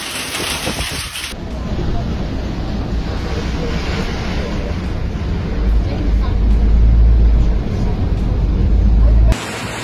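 A strong windstorm with rain in the seaside town of Burgas, Bulgaria roars in loud, continuous gusts buffeting the microphone, with deep rumbling surges swelling toward the end before cutting off abruptly.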